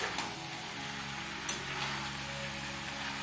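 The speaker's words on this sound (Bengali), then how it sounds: "আমি এটাকে আগে নাড়াচাড়া করে নিচ্ছি" Jackfruit curry being stirred in a pan over low heat, a soft continuous sizzle with faint scraping and a couple of brief clicks from the utensil.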